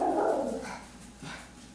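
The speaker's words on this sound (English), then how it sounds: "I'm so sorry about those dogs." Dogs bark nearby, one short full bark followed by a softer yip or whine, brief and fairly loud with no talk over it.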